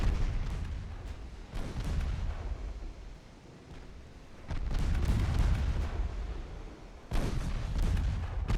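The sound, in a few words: battleship secondary guns firing at close range, video game Ultimate Admiral Dreadnoughts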